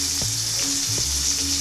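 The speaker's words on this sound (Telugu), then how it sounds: "ఇదిగోండి ఉల్లిపాయలు అయితే వేసేసుకుంటున్నాను." Chopped onions and green chillies sizzle loudly in hot oil in a pan, a steady close frying hiss with a few soft stirring knocks, as the base for a home-cooked chicken fry.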